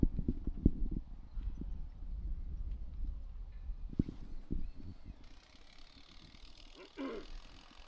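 Hooves of a well-bred mare clip-clop as she is worked at a horse sale. The irregular thuds are close at first, then fade into soft background noise.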